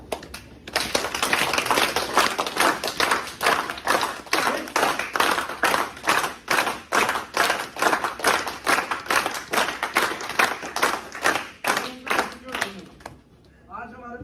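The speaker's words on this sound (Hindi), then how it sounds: "चलिए दोनों हाथ ऊपर करके बहुत अच्छे से ताली बजाएंगे।" An audience at a talk claps with both hands raised in unison, a steady, loud, rhythmic run of claps at about two per second that lasts most of the time before stopping abruptly.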